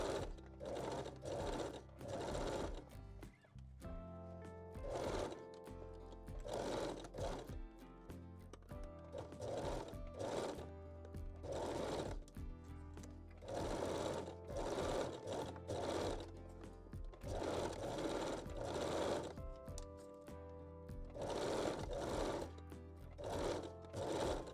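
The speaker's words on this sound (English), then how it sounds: "I will use just the long straight stitch and stitch the bottom edge" A sewing machine sews a long straight stitch along the bottom edge of a lace waistband on panties, running in repeated short bursts with brief pauses, close and steady, with a faint hum underneath.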